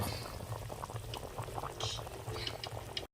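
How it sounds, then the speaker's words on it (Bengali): Broth of a spicy red meat curry bubbling away in a home kitchen pot, a steady, close, continuous simmering gurgle with no voices over it. "টকবক টকবক করে ঝোল ফুটছে"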